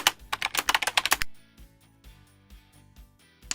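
A rapid burst of keystrokes clatters on a computer keyboard as a search term is entered, then gives way to a few isolated key taps and quiet pauses before another click.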